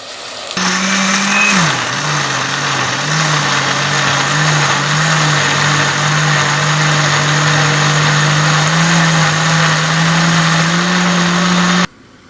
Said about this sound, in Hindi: अब हम इनको सारे मसालों के साथ मिक्स करके ये प्याज ब्लेंड कर लेंगे